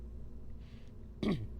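A single short, close throat-clearing cough bursts out near the end after quiet room tone, abrupt and gravelly, with no talk around it.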